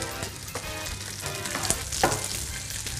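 Vegetables frying in olive oil in a pan, a steady sizzle and crackle with stirring scrapes and occasional louder pops, close by and continuous with no talking.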